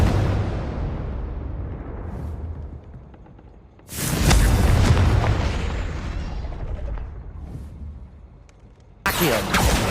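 Confringo spell explosions in Hogwarts Legacy: a fading fiery rumble, then a sudden loud blast near four seconds that roars and decays over several seconds, and another abrupt burst at the end, with no talk.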